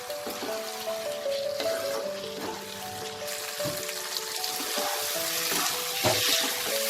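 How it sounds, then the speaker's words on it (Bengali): Spice paste with turmeric and salt sautéing in oil in a pan, a steady sizzling hiss layered with scattered spoon clinks and scraping, growing slightly louder near the end. "আর পরিমাণ মতো নুন দিয়ে মশলাটাকে আমি ততক্ষণ কষাবো যতক্ষণ না মশলাটা থেকে তেলটা আলাদা হয়ে যাচ্ছে"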